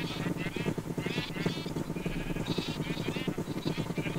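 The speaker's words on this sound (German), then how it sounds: "Wie ihr seht, mangelt es uns nicht an Schafen in dieser Welt" Many sheep in the Minecraft video game bleat over and over, their calls overlapping in a constant, fairly soft chorus.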